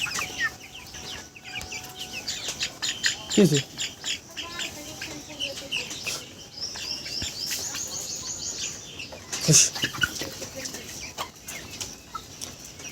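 Chickens on a poultry farm in hot weather cluck and call repeatedly at close range, with overlapping bird chatter and a couple of louder squawks.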